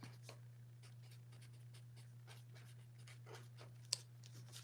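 Pen scratching across paper in short, irregular strokes with small taps between them, quiet over a steady low electrical hum, with one sharper tick near the end.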